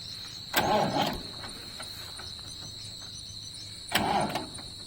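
A stuck tractor's engine cranks and catches in two loud, rough bursts a few seconds apart over steady outdoor background noise.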